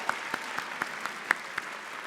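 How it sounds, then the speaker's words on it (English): Faint audience applause at an NYU Medical School graduation ceremony, heard as a soft wash of clapping with a few distinct claps standing out at a steady pace, distant in a large hall. "Round of applause, yes."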